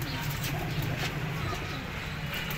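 Pigeons in a loft coo steadily over a constant background hum, their low soft calls repeating close by without talk.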